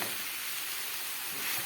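Garlic sizzles and fries in a pan while being stirred, a soft, steady crackling hiss with faint scraping, close but fairly quiet and with no talk.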